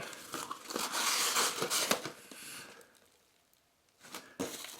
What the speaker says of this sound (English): let's go ahead and cut the box open